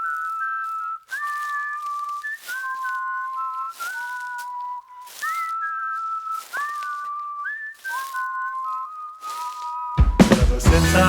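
Whistled melody opening a song, clear two-note phrases repeating at a regular pace with brief gaps, near and prominent, before a fuller burst of music cuts in at the end.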